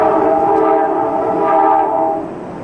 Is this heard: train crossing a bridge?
yes